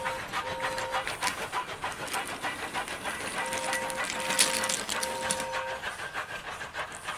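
A toy steam engine from a wooden railway story puffs along with a rapid chuffing texture, while sustained whistle-like tones sound in short bursts at the start and again later.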